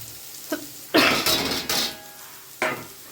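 Fried puti fish tumbles into a pan of reddish fried potatoes, bringing a loud burst of clattering and sizzling, then scraping and stirring with a metal utensil, plus a short knock near the end.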